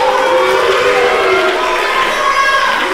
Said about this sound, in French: Le bûcheron hué par la foule.